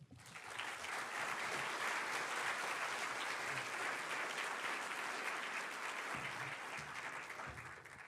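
Sustained, even applause from a lecture audience welcoming a speaker at a university lecture, swelling quickly and holding dense and steady for several seconds before a slight easing.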